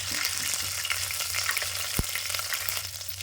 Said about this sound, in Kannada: ಶುಂಠಿ ಬೆಳ್ಳುಳ್ಳಿ ಪೇಸ್ಟ್ ಹಾಕಿದ್ಮೇಲೆ ತಿರುಬೇಕು ರೀ